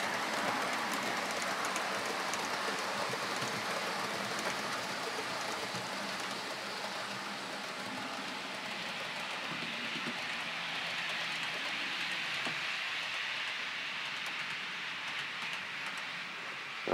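A pair of double-headed class 68 model locomotives runs on a layout, producing a steady, continuous rolling rumble and rail noise that stays even throughout.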